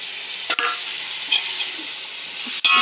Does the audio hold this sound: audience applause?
no